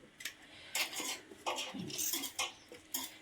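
Small knife slicing two green chillies lengthwise on a board while making a vankaya pachi pulusu, a string of light crisp taps and clicks close up, no voices.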